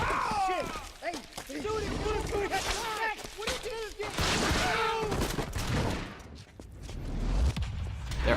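Enemy gunfire in The Darkness video game, scattered volleys of shots under talk and game voices, with moments of louder bursts between quieter stretches.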